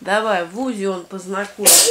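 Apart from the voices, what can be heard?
sneeze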